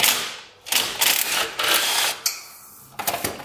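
Bolts come off an ATV differential in short bursts of ratcheting and metallic clicking, close up, with brief pauses between runs.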